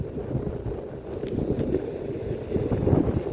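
A Hiboy S22 electric motor skateboard rides at speed, a low continuous rumble of wheels and motor mixed with buffeting wind noise, close and steady.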